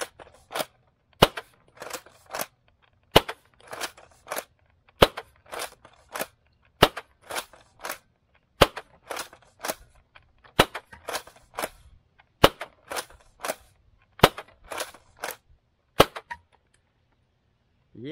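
A modded Nerf Rival Saturn blaster with a K26 spring fires round after round through a chronograph. About eighteen sharp, loud cracks come at a steady pace of roughly one per second, with faint mechanical priming clatter between the shots.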